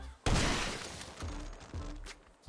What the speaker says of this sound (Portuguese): vou dar um tiro bem aqui